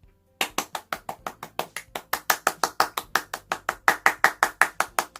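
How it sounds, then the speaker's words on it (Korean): Steady rhythmic clapping celebrates a child's birthday at a children's church service, around two dozen evenly spaced claps from a single nearby source, crisp and alone. "우리 먼 곳에 떨어져 있지만 있는 자리에서 힘껏 박수를 쳐줍시다."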